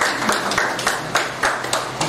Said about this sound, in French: On peut applaudir Foto.